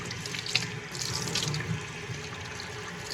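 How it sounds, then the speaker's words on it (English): Warm water runs steadily from a tap into a sink, a close continuous splashing stream with a few brief clinks, no talking. "Go ahead and get warm water again."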